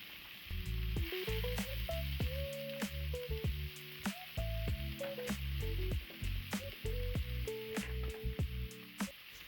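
Bay leaves, cinnamon sticks and cardamom pods fry in oil for Bengali beef kosha, a steady sizzle with stirring clatters, while pitched melodic tones play prominently over it throughout.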